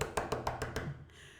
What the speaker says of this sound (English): I hear a knocking at the south entry.